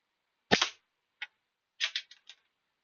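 Gunshots during target shooting in a basement range: one loud sharp report, a faint single pop, then a quick cluster of several cracks, each alone against near silence.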